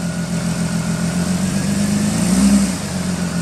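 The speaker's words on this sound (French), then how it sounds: "Mets un coup de gaz, là." Audi A6 V6 TDI quattro diesel engine under restoration, idling steadily then revving briefly in a short burst before settling, heard up close with no talk over it.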